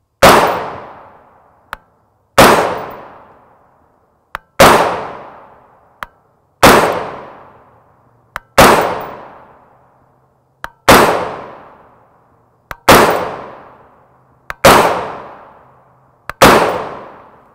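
A rifle fires 5.56x45mm 62-grain M855 SS109 green-tip FMJ Winchester ammunition in nine loud, sharp shots about two seconds apart, each with a long, ringing reverberant tail.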